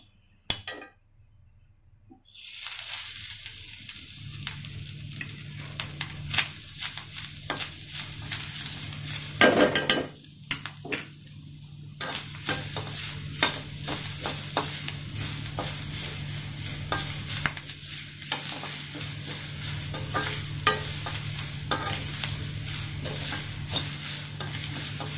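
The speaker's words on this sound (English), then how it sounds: "We're going to roast the grated coconut." Grated coconut dry roasted in a pan on the stove, a faint bed of hiss under a long run of quick scraping and stirring clicks from a utensil, with a brief clatter near the middle and no speech.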